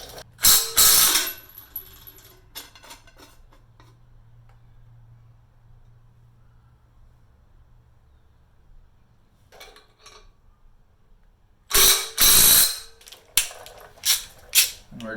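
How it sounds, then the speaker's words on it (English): A ratchet loosens an engine crank bolt in short bursts of sharp clicking at the start and again near the end, close and loud, separated by a long quiet stretch. "need to loosen up my crank bolt"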